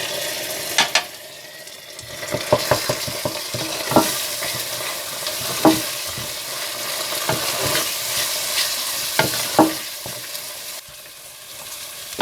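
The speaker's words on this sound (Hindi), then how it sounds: "और हरी मिर्चें डालकर भून लें।" Ginger, garlic and green chilies fry with onion and whole spices in a pan, giving a steady close sizzle. Irregular scraping stirs and utensil clicks break into it now and then, with no talking.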